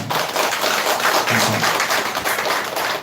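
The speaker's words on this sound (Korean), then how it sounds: "우리 경례의 박수 한번 하겠습니다" A church congregation at a Sunday service claps together in a dense, even burst of applause that fills the room for a few seconds, with no talk over it.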